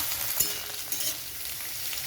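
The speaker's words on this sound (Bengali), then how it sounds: "পেঁপেটা ভাজা হয়ে গেছে, এমনভাবে ভাজতে হবে যেন সিদ্ধ হয়ে যায়।" Papaya pieces fry in a pan for a vegetarian moong dal, making a short, even sizzle with a couple of small crackling ticks.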